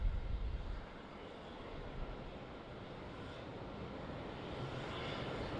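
A Boeing 747-400 landing at Melbourne Airport on runway 34 gives off a steady, broad jet engine rumble that stays far off and moderately loud throughout.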